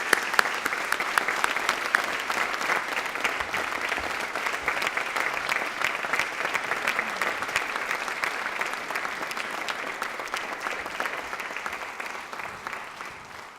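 A university lecture-hall audience welcomes a distinguished lecturer with a long, steady round of applause, even and sustained throughout at moderate distance, slowly fading toward the end.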